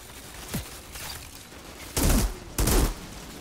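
Machine gun fire in the video game Outriders: a few scattered sharp shots early, then two loud, short bursts close together near the end over steady background noise.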